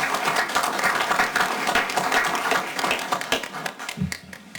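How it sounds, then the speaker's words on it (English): Applause from attendees at a county board of commissioners meeting honoring a tax collector's ten years of service, a dense, fairly loud burst of clapping that tapers off near the end. "He actually got applause."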